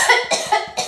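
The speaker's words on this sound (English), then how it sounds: "can you do lots of coughing?" A child coughs four times in a quick, evenly spaced series during a first aid lesson on choking, each cough sharp, close and loud.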